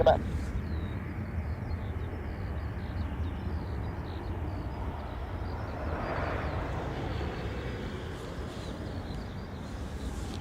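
A Ryanair jet takes off from runway 25 at Dublin Airport, a steady broad roar of engines at some distance, swelling slightly midway, with faint chatter in the background.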